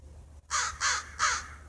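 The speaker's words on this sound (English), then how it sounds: "Crows are beautiful birds, and they're very highly intelligent." A crow gives three loud, harsh caws close by, evenly spaced and alone against a quiet low hum.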